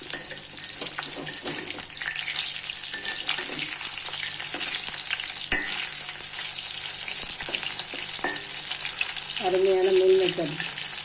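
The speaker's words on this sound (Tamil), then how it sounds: "பரட்டி விட்டு இறக்க வேண்டியது தான்." Soya chunk meal maker fry sizzles steadily in a pan while being stirred, with a constant hiss and occasional scraping clicks; a short tonal sound intrudes near the end.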